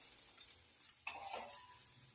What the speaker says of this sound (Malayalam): ഉള്ളിയും മുളകും കൂടെയാണ് മുപ്പിച്ചെടുക്കുന്നത്.